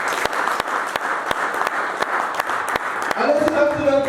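A church congregation applauds to acclaim the Lord, with dense crowd clapping throughout and a few sharp louder claps standing out, joined near the end by a voice calling out over it.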